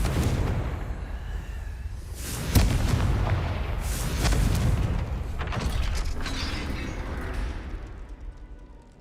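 A Confringo curse explodes in Hogwarts Legacy, with several booming blasts and crashes followed by heavy mechanical clanking and grinding as a gate slams shut, all loud and close.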